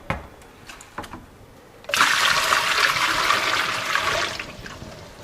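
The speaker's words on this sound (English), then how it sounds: "this rinse is to just get the sanitization solution off of the seed before the soak" Running water pours steadily over microgreen seeds for a rinse to remove sanitizing solution, a loud continuous splashing gush that starts abruptly and fades toward the end, with faint handling clicks before it.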